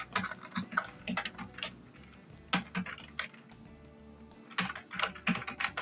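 Typing on a computer keyboard while filling out a bill design in Microsoft Word, bursts of quick close key clicks with short pauses between, alone without talk.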